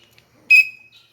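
A single sharp whistle blast at an archery range signals archers at the firing line, loud and steady for a moment before trailing off, with no one talking.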